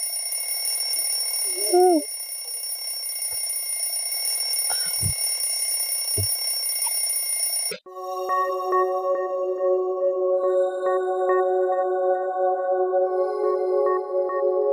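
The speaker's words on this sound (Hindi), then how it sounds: "मुझे अलार्म बंद कर।" A bedside alarm clock rings loudly and persistently, first as a steady high electronic tone and then switching to a repeating pulsed beeping that carries on to the end.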